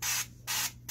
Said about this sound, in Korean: 저는 이 스프레이로 뿌려줄 거예요.